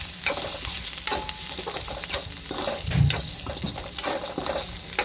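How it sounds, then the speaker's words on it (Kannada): Cumin seeds roast in a pan for North Karnataka green chilli chutney, crackling and sizzling closely while a spoon stirs and scrapes in uneven bursts, with no talking. "ಜೀರಿಗೆ ಹಾಕ್ಕೊಂಡು ಹುರ್ಕೋಬೇಕು."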